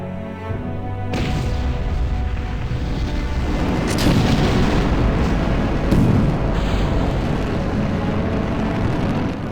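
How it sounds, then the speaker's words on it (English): A rocket lifts off the pad in the video game Kerbal Space Program with the Realism Overhaul mod, bursting into a loud, sustained roaring rumble with a few sharper surges as the engine burns. "What looked like the start of a good flight very shortly turned into a bad flight with the engine cutting off not long after we'd left the pad."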